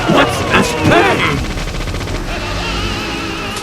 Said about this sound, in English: The machine gun should be really, really helpful.